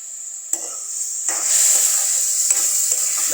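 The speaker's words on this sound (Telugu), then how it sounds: "మొత్తం బాగా మిక్స్ చేసుకోవాలి" Tomatoes and salt stirred into fried onions in a hot pan, a steady close sizzle with brief scraping stirs breaking through now and then.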